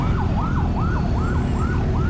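An ambulance wails through city traffic beside a Honda CBR650R motorcycle, its loud siren sweeping up and down in rapid repeated cycles over a constant low engine and road rumble.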